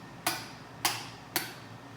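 Three sharp, close taps with the back of a small mallet, spaced about half a second apart, driving a piston into the bore during assembly of a Toyota 2JZ-GTE engine block; each tap rings briefly over a quiet background.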